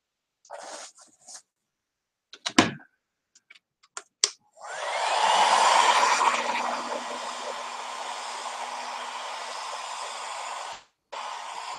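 After a few soft handling clicks and knocks, a hair dryer switches on and blows steadily and loudly for several seconds to dry alcohol ink on canvas, then cuts off briefly and restarts.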